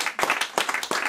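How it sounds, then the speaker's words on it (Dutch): Clapping at a sports day, several loud close hand claps in an uneven rhythm over about a second, with no talk. "Dat was, vind ik, echt een applaus waard."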